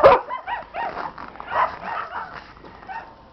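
Sled dogs kept in outdoor cages in Yakutsk, Siberia, at minus 42 degrees Celsius bark and yip, one loud, close bark followed by a run of fainter, overlapping barks and whimpers.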